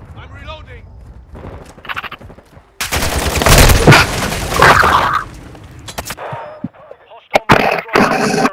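A grenade blast in a first-person shooter erupts as a loud, sustained roar lasting a couple of seconds, followed by scattered gunshots, with players talking over the game noise.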